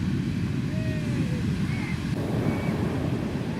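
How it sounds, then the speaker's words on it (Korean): Ocean surf breaking at Puerto Escondido's surfing beach in Mexico, a steady broad roar of heavy waves with wind buffeting the microphone, continuous and fairly loud, with faint high tones drifting over it. "아 이렇게 그냥 파도 치는 것만 봐도 상당히 만족스럽네"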